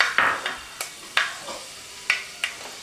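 Fenugreek seeds spluttering in hot oil with asafoetida: a faint background sizzle broken by about seven sharp pops and crackles at an irregular pace, close by, with no talking.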